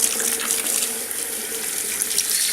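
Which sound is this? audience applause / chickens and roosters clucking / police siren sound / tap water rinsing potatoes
tap water rinsing potatoes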